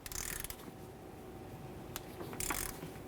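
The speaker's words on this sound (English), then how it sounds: "Torque this nut to 46 foot-pounds." A torque wrench clicks and ratchets while tightening the top strut nut to 46 foot-pounds on a 2003-2011 Mercury Grand Marquis front strut assembly, a few close mechanical clicks and metallic rattles with no talk.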